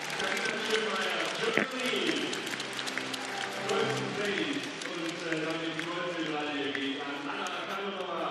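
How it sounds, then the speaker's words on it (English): A crowd at a gymnastics World Cup medal ceremony in Cottbus, Germany, cheering and applauding steadily throughout, with an announcer's voice speaking over the noise. "hear the crowd roar"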